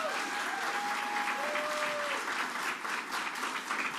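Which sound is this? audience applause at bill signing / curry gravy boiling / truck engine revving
audience applause at bill signing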